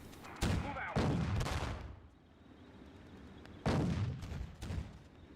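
Artillery shells fired at a Panzer IV in Theatre of War 2 at the Battle of Cheux, heard as two loud paired bursts of booming gunfire separated by a quieter stretch of rumbling battlefield noise.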